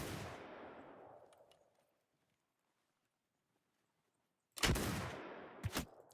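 Gunfire from samurai matchlock guns in Mount & Blade 2 Bannerlord: a loud burst with a fading tail, a stretch of silence, then a second sharp volley with a quick follow-up crack.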